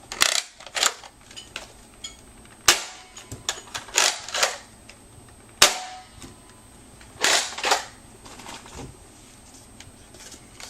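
A toy Air Zone Double Barrel Blaster fires foam darts: about half a dozen sharp, snappy pops spaced a second or two apart, loud and close, with soft handling rattles between shots.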